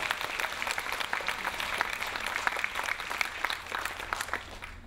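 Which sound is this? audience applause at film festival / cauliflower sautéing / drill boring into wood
audience applause at film festival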